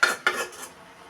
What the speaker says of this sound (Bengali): তো সব তরকারি কষিয়ে নিচ্ছি